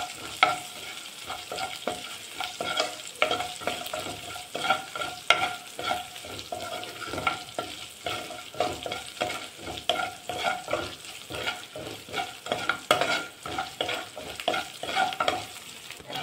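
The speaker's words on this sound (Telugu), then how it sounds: "ఇప్పుడు దీన్ని గోల్డెన్ కలర్ వచ్చేందుకు వేయించాలి." Curry leaves fry in hot oil for a tomato pachadi, a steady crackling sizzle with frequent stirring and scraping in the pan, close and fairly quiet, with no talk over it.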